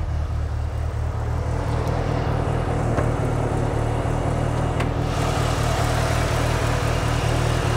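A Mitsubishi Lancer Evo 6 Tommy Edition sits idling, its engine giving a steady, loud low rumble with an even pulse throughout and no talk over it.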